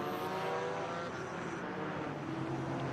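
A Porsche race car in a virtual ACC championship at the Nürburgring drives by with a loud, steady engine roar that holds near and full throughout.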